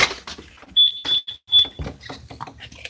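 An alarm going off indoors, a shrill repeated beeping in short pulses, heard amid footsteps and background movement.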